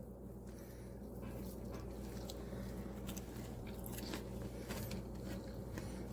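Crunchy chewing and biting into crispy fried chicken schnitzel fill the clip up close, a continuous crackly munching with occasional sharper crunches and no talking.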